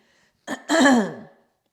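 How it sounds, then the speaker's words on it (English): A single short throat clearing, close and fairly loud, then silence. "Sorry, clear my throat."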